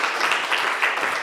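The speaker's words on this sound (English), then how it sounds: "please show your appreciation with a warm round of applause as I welcome Karel onto the stage" An audience at a policy and finance conference applauds as a speaker walks on stage, producing dense, continuous clapping at moderate volume with no voices over it.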